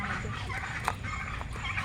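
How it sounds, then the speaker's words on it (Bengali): A turkey gobbling in a park in Rampurhat, a few short rattling calls over a continuous outdoor background hum, moderately close. "এটা বিদেশি হাঁস ওই তুর্কি তুর্কি তুর্কি হাঁস"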